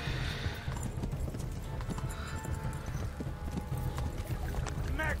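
A horse gallops in the video game Kingdom Come Deliverance, giving a steady, rapid clip-clop of hooves close by under game ambience, with a brief whinny near the end.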